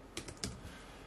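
A few quick taps on a computer keyboard are heard, close and quiet, as a Windows 11 command is entered, and the burst fades into a faint room hiss.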